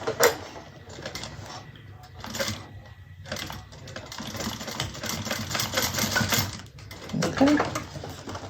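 Sewing machine top stitching a fabric convertible bag, a steady rapid mechanical whirring in bursts with brief pauses, close and fairly loud, no talking.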